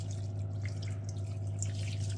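Water is poured into a lamb casserole as a steady, soft trickle and dripping over a constant low kitchen hum, with no talking.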